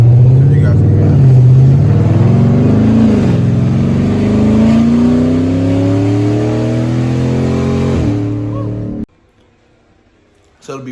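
A 2015 Dodge Charger with long tube headers and catless mid pipes revs loudly close by, its deep exhaust climbing steadily through a long pull before cutting off abruptly near the end.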